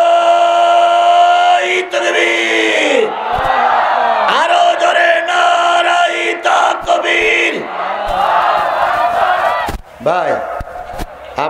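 A large crowd at an Islamic religious gathering (waz mahfil) roars a takbir response in loud, sustained collective shouts, rising in waves over a preacher's amplified voice.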